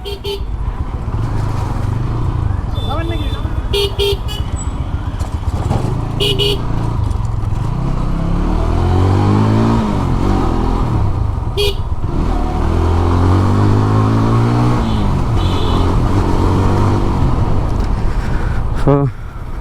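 A congested street jam hums with idling and revving car and motorcycle engines close by, short horn toots breaking through now and then, while someone talks over the steady traffic rumble.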